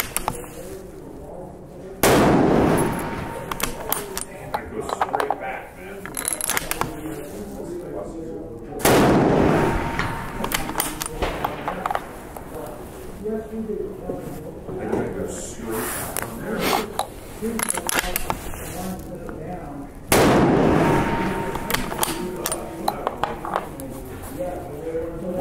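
A free recoil gun fires test loads at a shooting range, three sharp, loud reports spaced several seconds apart, each followed by a lingering decay, while people talk steadily throughout.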